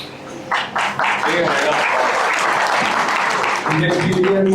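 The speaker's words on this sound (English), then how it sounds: "Please give him a round of applause." An audience claps for a speaker at a Git and GitHub session, a close, steady burst of applause, with a voice speaking over it near the start and end.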